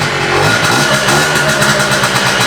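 A modded two-stroke scooter engine runs loudly and steadily up close, a dense buzzing drone with slight surges in pitch as it revs while recovering from a fuel-system fault.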